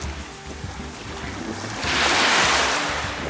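Waves on a private resort beach in Doha, Qatar, a rushing surge of surf that swells loudly midway over steady wind noise on the microphone.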